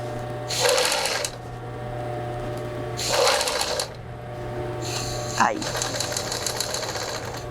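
A sewing machine runs in three short bursts of rapid stitching, sewing a French seam on a fitted sheet, with pauses between runs and a steady hum underneath, close and fairly loud.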